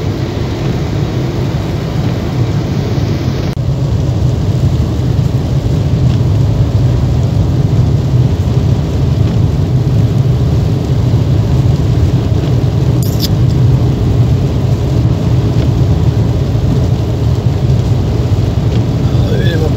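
A car drives through a snow blizzard on a motorway, giving a loud steady roar of engine, tyres and wind with a constant hiss of snow and rain, broken only by a brief click.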